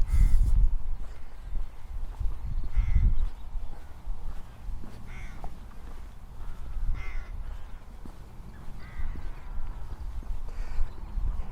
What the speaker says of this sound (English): the cacophony of sound that they produce, particularly the noisy crows